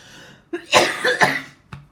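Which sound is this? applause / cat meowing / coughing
coughing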